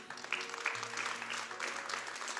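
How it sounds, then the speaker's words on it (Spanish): Soft, scattered clapping from a church congregation rises briefly and faintly, with a low sustained tone beneath it. "¿Cuántos dan un aplauso al Señor?"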